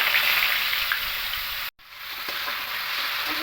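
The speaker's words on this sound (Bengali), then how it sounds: "সাদা তেল দিয়েছি তেলটা গরম হয়ে গেছে এবার এখানে প্রথমে আলুগুলো দিয়ে দেবো" Potatoes drop into hot white oil and fry with a steady, loud sizzle that runs throughout, broken by one brief silent gap midway. They are the first step of a Maggi roll.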